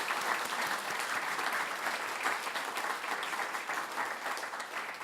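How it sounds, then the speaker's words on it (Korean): A church congregation at Sunday worship applauds to welcome new members, a sustained, fairly soft and even burst of many hands clapping that fills the room from start to finish. "참 다시 한번 우리 환영의 박수와 반가운 신을 드리겠습니다."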